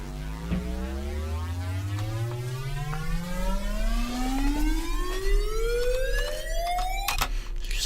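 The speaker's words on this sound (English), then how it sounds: "Another pretty cool riser found on Splice." Synth riser sample from Splice in a music production, a steadily climbing tone with stacked harmonics sweeping upward over about seven seconds, loud and sustained, then cutting off abruptly.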